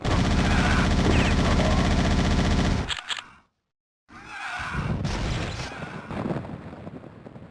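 Heavy rapid gunfire in the game PowerSlave, loud and continuous for about three seconds, then a brief silence, then more bursts of shooting with crunchy impacts.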